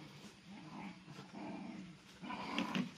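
A puppy growls low and grumbling in short bursts, soft and close. Small yips and whimpers come in toward the end. No one speaks.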